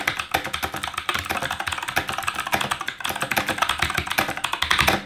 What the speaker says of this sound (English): here's a quick sound test of it just to like show how these particular keycaps sound